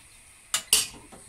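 A spoon scrapes and clinks against a pan as a tomato-free mixture is sautéed and stirred, giving two sharp metallic strokes close by and a fainter third, with no talk.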